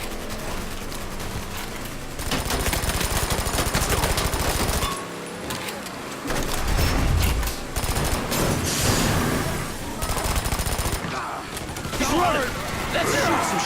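Gunfire in the video game Mafia III, with long stretches of rapid automatic bursts and a dense fusillade, loud and continuous with short lulls, a heavy low boom partway through, no one talking over it.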